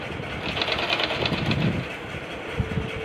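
A sewing machine runs steadily while stitching the sleeves onto a suit, a continuous close mechanical whir with a fast, even rhythmic rattle and no voices.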